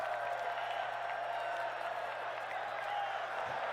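A live Rocket League Championship Series viewing-party crowd applauding and cheering, a steady dense wash of clapping and crowd noise heard from some distance with no clear voice over it.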